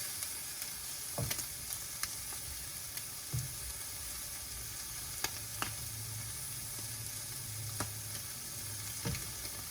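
Shrimp frying in a pan for fried rice, a quiet, steady sizzle with occasional sharp taps and scrapes of a utensil stirring, heard close but faint, with no talking.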